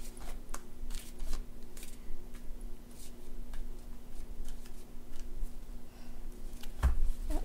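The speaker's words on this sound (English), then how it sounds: "I want to give these a real good shuffle here." A tarot card deck being shuffled, with a steady run of soft papery riffles and light clicks at close range and no talk over it.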